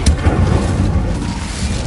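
A fiery Incendio spell cast in Hogwarts Legacy on PS5, a loud rumbling roar with a sharp burst at the start and steady crackling flame noise through the rest.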